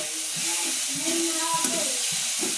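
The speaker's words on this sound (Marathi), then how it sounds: "आता पेस्टला चांगलं परतून घेऊ." Chili, garlic and ginger paste sizzling in a pan for vada pav filling, a loud, close, hissing fry with soft stirring, and a voice talking faintly underneath.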